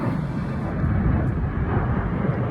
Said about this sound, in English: I'm gonna let this plane pass.